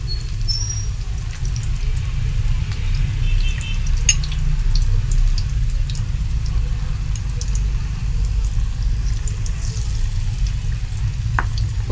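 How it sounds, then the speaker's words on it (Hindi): Eggplant slices sizzle steadily on a hot tawa, a continuous low frying hiss with occasional faint pops and clicks, close and unbroken throughout. "हमारे जो बैंगन है अच्छे तरीके से फ्राई हो रहे हैं"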